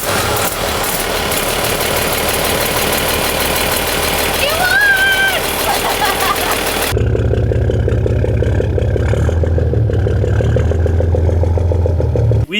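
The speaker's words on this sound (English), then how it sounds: "when we heard it roar, when you turned it on, in place, in the boat, with the DIY exhaust" The inboard engine of a wooden sailboat, fitted with a DIY exhaust, runs and roars loudly in the boat. People talk over busy noise at first, then a steady rumbling engine takes over for the second half.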